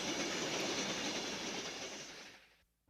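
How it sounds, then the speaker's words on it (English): The Pacific Limited, a steam-hauled train of heavyweight passenger cars, rolls past with a loud, steady rumble and clatter of wheels that fades away abruptly at the end. "the Pacific Limited coming in with its full load"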